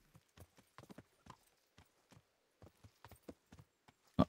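Horse hooves in a video game, Kingdom Come: Deliverance, clop in an irregular pattern of sharp, distinct steps against quiet, ending with one louder thud.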